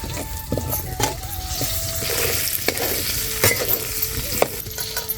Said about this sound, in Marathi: आता बटाटे टाकून घेते.